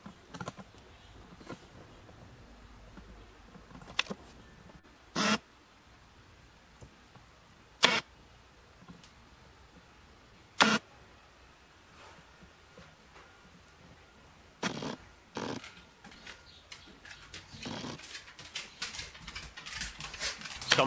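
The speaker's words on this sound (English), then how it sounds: "see if you can hear that sound of the lens searching for focus when you're shooting video" Tamron 17-35mm lens on a Canon camera, its autofocus motor searching for focus while video is recorded, making sharp clicks and brief whirring bursts at irregular intervals over a quiet background, close to the camera.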